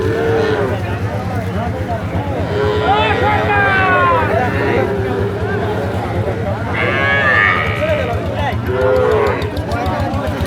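Cattle at a rural livestock market low and moo repeatedly, near and loud, amid a dense crowd hubbub with people talking throughout.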